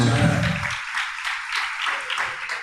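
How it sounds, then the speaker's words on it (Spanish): A church congregation applauds during a sermon, a soft wash of many hands clapping at a moderate distance, rising and falling in gentle waves after a brief low voice at the start. "Dele un fuerte aplauso al Señor"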